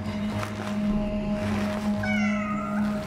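Cat meowing in the video game Cronos: The New Dawn, a short whining meow that rises out of a steady low game hum and background ambience partway through, with no talk.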